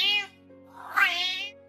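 A cat meows twice, close and clear: a short cry, a brief pause, then a longer, rising and falling meow, with no other sound around it.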